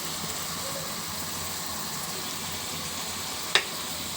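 Washed fish going into a hot pan in a village kitchen, a steady broadband sizzle of frying with one sharp clatter or splash near the end.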